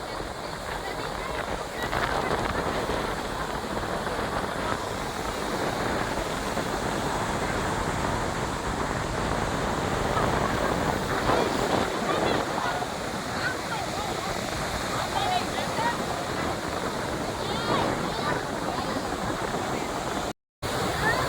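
Continuous broadband wash of surf rolling onto a sandy shore at Madhavpur beach, Gujarat, steady and fairly loud throughout, with faint voices mixed in at times.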